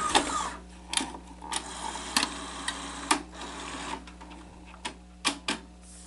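A Sony SL-HF350 Betamax VCR with a drum motor fault runs its tape mechanism, giving faint mechanical whirring and a steady hum punctuated by irregular clicks and clunks, with no talk.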